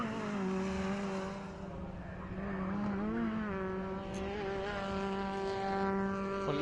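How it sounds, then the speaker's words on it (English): Fiesta Junior race cars from the 2012 championship scream along a circuit straight. A sustained, high-revving engine drone shifts pitch as the cars pass, loud and continuous with no talk. "Liddell perhaps has got it under control as he goes back onto the Wheatcroft straight"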